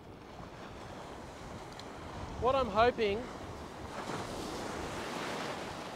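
Ocean waves breaking on a beach where someone is surf fishing, a steady wash of surf and wind noise throughout, with someone speaking briefly over it in the middle.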